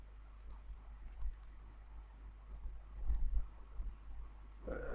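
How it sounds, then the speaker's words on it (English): A few sharp, light computer mouse button clicks, close and isolated, spaced over a few seconds against a faint low hum. "If you see, if I right click, I'm doing left click."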